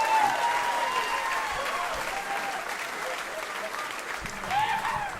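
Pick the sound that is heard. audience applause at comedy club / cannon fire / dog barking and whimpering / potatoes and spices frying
audience applause at comedy club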